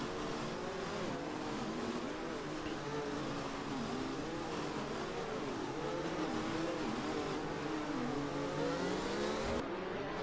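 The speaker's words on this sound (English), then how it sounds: "full throttle into the final corner" Race car engine in a sim racing game around the Singapore circuit, a steady high, wavering drone at full throttle with rising and falling pitch as the car accelerates, heard alone without talk.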